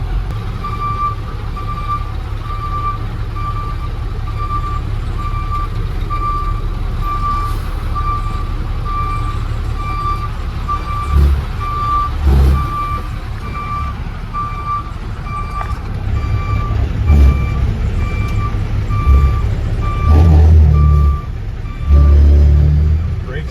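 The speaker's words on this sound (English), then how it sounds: "Move the truck for us." A garbage truck moving with its reversing alarm beeping in a steady repeated pattern over a loud engine rumble, with bumps and clunks from the vehicle and a bit of talk outdoors.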